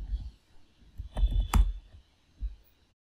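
Keystrokes on a computer keyboard, typed during setup of the Maltego information-gathering tool on ParrotOS 6. A handful of soft, quiet clicks come in short clusters with gaps between them. No one speaks over them.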